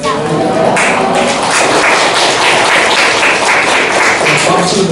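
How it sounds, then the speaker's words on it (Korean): Close, loud applause from a gathered church audience at a summer retreat session, many hands clapping in a thick burst that carries on through the whole stretch. "박수를 너무 많이 받는 것 같습니다"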